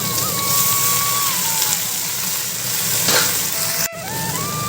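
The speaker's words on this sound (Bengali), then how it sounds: "পেঁয়াজ ভাজা ভাজা হয়ে গেছে এখন এই যে লটিগুলো দিয়ে দিচ্ছি" Taro stolons tumble into sizzling onions in a wok, a steady close hiss and crackle with a brief stirring scrape and a short sharp clatter near the end.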